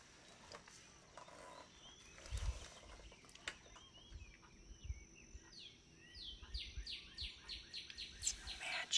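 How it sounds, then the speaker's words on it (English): Recorded bird chirps and trills play back at moderate volume, quick repeated calls clustering toward the end, over a quiet room with low thumps. "And the cat's wondering where the bird sounds are coming from."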